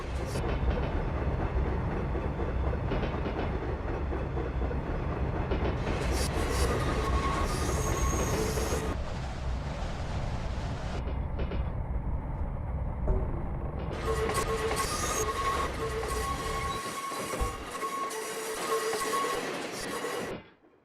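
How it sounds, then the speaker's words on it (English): An interurban passenger train in Train Simulator runs between San Francisco and Sacramento, its wheels steadily clicking and squealing on the rails with a continuous rumble, loud and close, before cutting off abruptly at the end. "We've got the clicky noises back."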